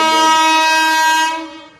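A freight train horn blares loud and steady, then fades out as the train rolls in, with no talking.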